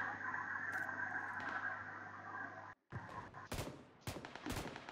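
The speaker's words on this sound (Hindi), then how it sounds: "मैंने यहाँ क्राउच करके M249 पर बर्स्ट फायर कर रहा हूँ" Crouched M249 light machine gun fire in PUBG PC Lite: loud gunfire rolls on continuously for nearly three seconds, then a brief gap gives way to several sharp, separate bursts, with no talking.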